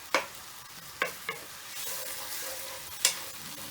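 Bits of bacon fry in a pan over medium-high heat, a steady crackling sizzle broken by several sharp scrapes and knocks as a utensil stirs them, with no voices.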